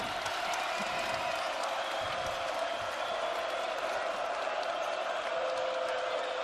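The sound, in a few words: college basketball arena crowd cheering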